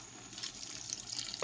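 Water poured into a cooking pot while making Calabar soup with seasoned meat stock, a short, soft liquid pour with light splashing and a small clink near the end.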